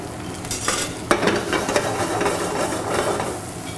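A black bean cake frying in a pan, loud steady sizzling with scraping and stirring clatter from a utensil, close and continuous.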